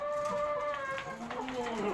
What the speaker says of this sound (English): Before I end my video, let me take you through my chicken coop. These are my chickens.